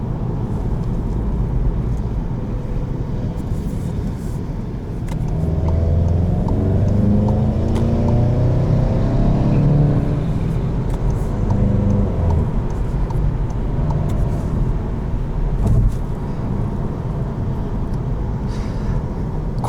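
A 2020 Volkswagen Golf GTI S with a DSG gearbox idles in sport mode, a steady low engine hum that rises slightly in level partway through and holds on with no one talking.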